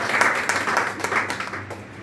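Audience applause at a training seminar in a hotel hall, a dense, steady wash of clapping from many hands that holds at an even level for about two seconds.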